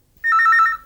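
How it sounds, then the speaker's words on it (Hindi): A telephone rings with an incoming call, one loud close electronic trill lasting about half a second, with the start of a second ring at the end. "हाँ लो, उसी का फोन आ गया।"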